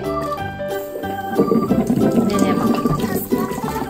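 Tap water runs steadily into a kitchen sink as a child rinses their hands after helping wash dishes, a loud close gush that builds partway through, with faint voices in the background.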